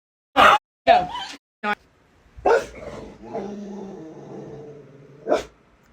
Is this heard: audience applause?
no